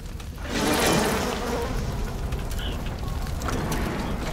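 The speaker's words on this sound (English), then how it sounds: "Bees!" Swarm of bees buzzing in the video game Bioshock, a dense, loud droning hum that swells early and stays constant for a few seconds with no talking.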